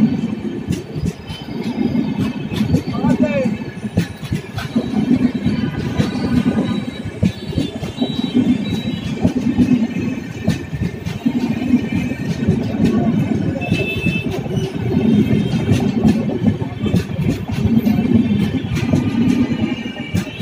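Lichchavi Express passing through Banaras railway station, a steady rolling rumble of rail cars with rhythmic wheel clatter throughout, heard fairly close with station ambience and occasional voices in the background.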